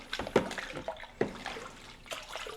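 Warm water being stirred by hand in a bucket with car wash solution, giving a few soft sloshing swishes at close range, with no talking.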